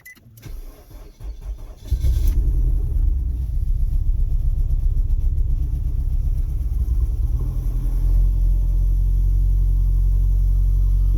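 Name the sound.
Nissan Altima engine running after engine replacement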